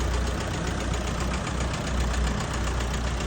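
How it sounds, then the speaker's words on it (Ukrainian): A Bunkel 404 G2 diesel tractor engine idles close by with a steady, rhythmic knocking chug and constant rumble, no voices heard. "Так, а таке гарний трактор"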